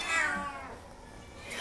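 A male orange cat, five years old and ten pounds, gives a single drawn-out meow, close and fairly loud, with a faint start of another cry at the end and no talking.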